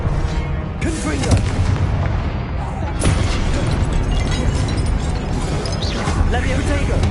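A Confringo spell in Hogwarts Legacy sets off loud, crashing explosive blasts amid dense, continuous combat noise, with a sharp impact near the middle and a voice heard over the chaos.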